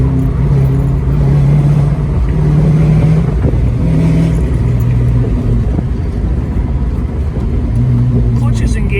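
A 1967 Ford Mustang convertible's 5.0 engine hums and revs steadily, with pitch shifts as the five-speed manual downshifts, close and fairly loud throughout.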